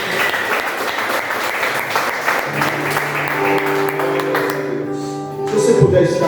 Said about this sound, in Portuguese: E mais uma vez aplaude a Ele